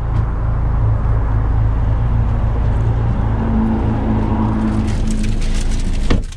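A 2020 Mercedes-AMG CLA 45 Coupe pulls away, its engine a loud, steady low rumble heard from inside the cabin, holding constant before fading at the end.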